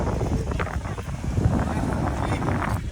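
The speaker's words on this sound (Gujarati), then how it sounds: "સ્પીડ બોટમાં પહેલી વખત બેઠા" Speedboat ride off Juhu Beach, Mumbai: a steady rush of wind buffeting the microphone over a low engine drone and splashing water, with voices talking throughout.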